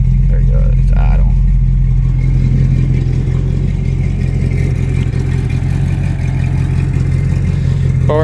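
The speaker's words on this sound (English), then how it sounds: "Just flip the throttle real quick. There you go, it's idle." A 1994 GMC Sonoma's V8 settles from a brief rev into a steady low idle after a cold start, a deep continuous rumble close by, with someone talking over it early on.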